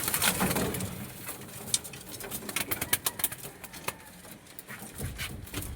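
Pigeons coo softly in a home loft, with low murmuring calls and scattered light taps and wing flutters repeating over several seconds, close by and fairly quiet.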